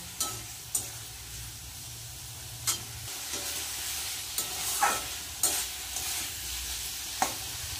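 Bitter gourd curry sautéing in a pan, a steady soft sizzle broken by scraping stirs and occasional sharp clicks of a spoon against metal, close and fairly quiet.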